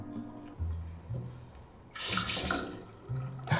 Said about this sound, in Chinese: 这水龙头感觉好松哦。